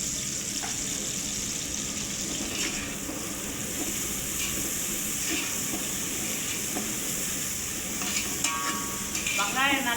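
Chopped onions sizzle steadily in a pan of hot oil for homemade chicken biryani, a dense continuous frying hiss with occasional stirring scrapes and a few faint clinks toward the end.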